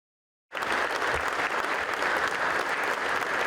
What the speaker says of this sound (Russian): Громкими аплодисментами встречают Рамзана Кадырова на праздновании Дня физкультурника.